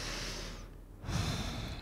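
Slow, close breathing during a quiet yin yoga class: one long exhale fades out and is followed by a fuller inhale, with no talking.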